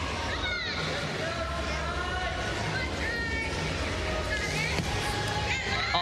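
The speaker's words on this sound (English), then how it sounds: "You can hear her teammates cheering for her in the background." Teammates cheering a gymnast during an all-around final, scattered shouts and crowd babble in the arena background, under continuous commentary.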